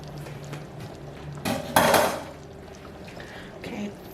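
A metal spoon clanks and scrapes inside a pot of beef chili for a taste test, giving two or three sharp, close knocks amid quiet kitchen background.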